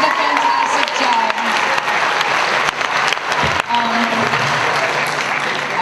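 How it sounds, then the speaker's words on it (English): Loud, sustained applause from a school audience at a high school poetry slam, a dense continuous roar of clapping with a few sharper individual claps standing out close by. "Just give another round of applause for the poets."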